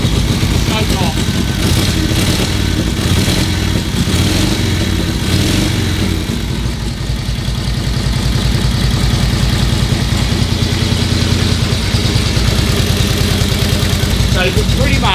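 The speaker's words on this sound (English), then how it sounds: "You leave the choke for a little while, hear it's running lumpy, too much choke." A vintage Harley motorcycle engine idling with the choke on, running lumpy: a loud, close, uneven low rumble with irregular pulsing, steady throughout, while someone talks over it.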